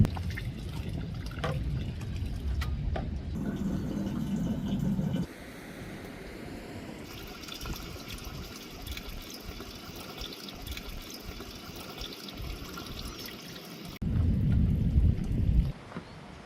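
Water runs into a campervan's tank during a refill in the Swiss Alps of Valais, a soft continuous pouring trickle, with louder gushing bursts near the start and end.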